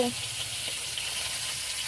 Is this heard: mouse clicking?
no